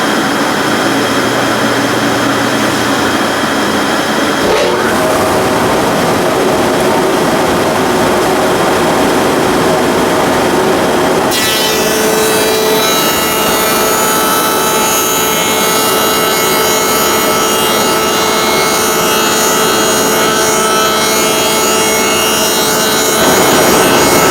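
A wood shaper fitted with a molding cutter roars loudly and continuously as a power feeder runs boards through, its pitch and texture shifting partway as each board engages the cutter.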